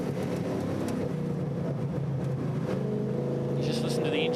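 A Holden V8 race ute engine drones continuously from onboard at Taupo, loud and steady with a harsh layered tone, and faint talking underneath.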